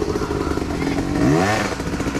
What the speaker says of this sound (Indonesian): Tinggal kocok-kocok gas doang.